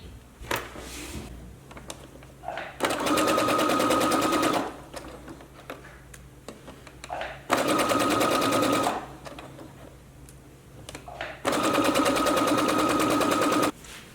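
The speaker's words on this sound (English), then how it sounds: "I'm gonna stitch across to tack this down and then try it on." A sewing machine stitches across a dress to tack it down, running in three sustained loud bursts of rapid mechanical whirring separated by quieter pauses with faint rustling.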